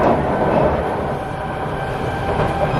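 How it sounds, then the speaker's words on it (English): A metro train rumbles past with a steady roar and faint rail hiss, close and continuous throughout. "This train was quite frequently seen on NSL recently"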